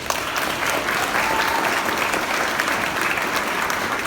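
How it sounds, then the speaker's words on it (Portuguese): A church congregation applauds during a Portuguese-language sermon, a steady, dense wash of clapping that holds evenly loud throughout with no pauses. "E você pode aplaudir"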